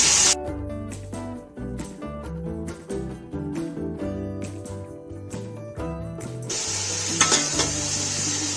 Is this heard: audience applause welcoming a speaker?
no